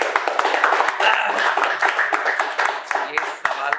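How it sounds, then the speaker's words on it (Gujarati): An audience claps during a Gujarati film discussion event, with sharp uneven hand claps crowding together in a lively burst that lasts throughout. "ભાઈ જોરદાર તાળીઓ."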